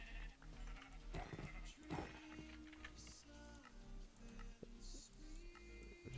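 Sheep bleat faintly in the video game The Erebus, a few short calls mixed into a busy bed of game music and ticking sounds.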